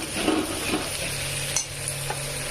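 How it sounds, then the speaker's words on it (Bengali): Prawn malai curry masala is stirred and fried in a pan: scraping strokes of a spoon against the metal over a steady close sizzle, with a few sharper clinks, and no talking. "ভালো করে এটাকে কষাতে হবে, নাড়াচাড়া করে ভাজা করতে হবে ভালো করে।"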